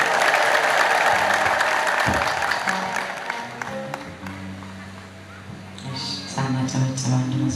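A church congregation claps and ululates loudly at first, then the cheering fades and a voice carries on over the remaining scattered applause.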